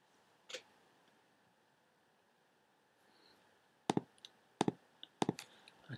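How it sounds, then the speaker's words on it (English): A computer mouse clicks sharply several times, one isolated click and then a quick cluster of close, crisp clicks, in a very quiet room. "just with my mouse I'm clicking and holding and moving"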